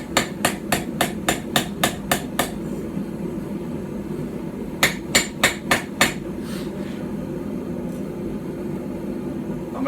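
Rapid rhythmic hammer blows ring on hot metal, a hand-forged Anglo-Saxon Viking style hatchet handle being straightened on a stump anvil, first a run of about nine strikes, then a pause and another quick series, near and sharp.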